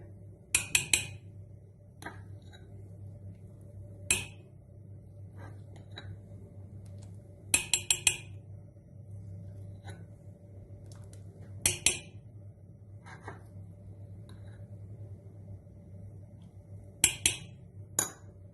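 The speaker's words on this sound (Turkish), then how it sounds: "Şimdi suyun içine kaşığımı pattıraraktan bu büyüklükte irmikleri atacağım" A metal spoon tapping sharply against a pot as small pieces of semolina dough drop into water for soup, clustered metallic clinks every few seconds over a quiet hum, with no talking.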